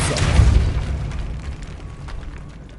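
Depulso spell cast in a Harry Potter video game, a single deep booming blast at the start that fades into a trailing rumble over a couple of seconds, close and fairly loud.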